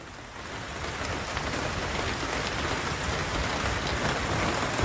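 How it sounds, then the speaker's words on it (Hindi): Heavy rain pours steadily in Lucknow during a downpour that has flooded homes, a dense, even roar of water with no gaps, fairly loud and unbroken throughout. "बारिश की आवाज आपको सुनाई दे रही है"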